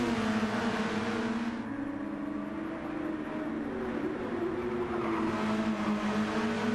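Race cars run side by side out of a hairpin onto a back straight at Bathurst in Gran Turismo 7, engines droning loud and steady with shifting pitch as the two cars jostle, close and continuous without talk.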